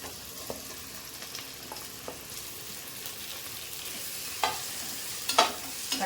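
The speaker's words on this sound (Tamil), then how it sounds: "தக்காளி நல்லா வதங்கட்டும்" Tomatoes frying and sizzling in a pan with onion and green chillies for a sardine fish curry, a steady close hiss broken by occasional stirring scrapes and small sharp pops.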